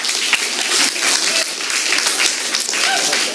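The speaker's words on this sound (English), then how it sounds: "Okay, I would be clapping too," Audience members clap after a public speaker finishes at a community services district special board meeting, a loud, steady round of applause with distinct individual claps throughout.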